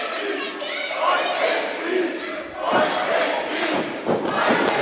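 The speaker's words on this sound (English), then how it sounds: "Crowd starting to fight KC chant." A wrestling crowd at an NWL Kansas City show roars and chants loudly in a dense, continuous swell of many voices, rising and surging throughout.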